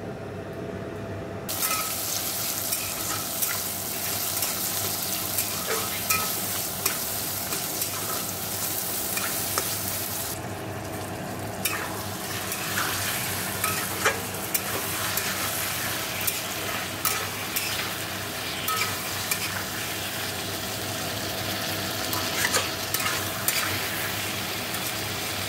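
Garlic, chili, tomato, onion and coriander frying in hot oil in a home kitchen, with a steady close sizzle broken by scraping stirs and brief bursts as ingredients shift in the pan.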